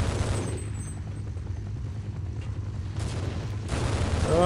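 Grenade blast in Half-Life: a heavy boom opens, fading into a low rumble, followed by a couple of sharper bursts near the end.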